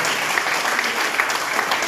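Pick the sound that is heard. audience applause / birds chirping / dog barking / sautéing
audience applause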